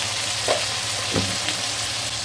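Green chilies, chili paste, ginger and garlic pastes and turmeric fry in a pan for a spicy mixed-fish curry with taro, giving a steady close sizzle broken by a few soft stirring scrapes, with no talking.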